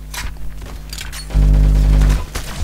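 An M1A1 assault rifle fires in the video game Arsenal: a sharp burst of rapid shots followed by a loud sustained low-pitched blast, with a few scattered clicks and pops around it.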